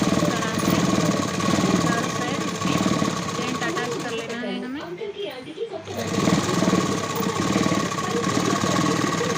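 An electric sewing machine runs in fast continuous bursts, stitching lining to the main fabric of a boat-neck garment, with a brief pause midway before the rapid mechanical chatter resumes; someone talks over it.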